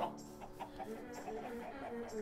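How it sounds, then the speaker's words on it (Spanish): Chickens clucking inside the Minecraft video game, a steady stream of overlapping short clucks and calls that runs throughout the stretch at moderate loudness. "Callaos, gallinas."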